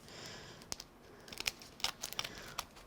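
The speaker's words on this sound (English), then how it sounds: "I'll just take some scissors and trim this" Scissors trim the edge of a sparkly floral vine greeting card, making a few quiet, irregular snips and papery crinkles close by.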